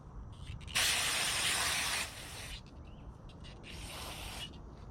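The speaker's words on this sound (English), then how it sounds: "just spray it off." Cleaner sprayed onto a rear end part from a 1974 VW Beetle during a rebuild: one loud, steady hiss of a bit over a second, then a softer, shorter burst a moment later, close by with no talking.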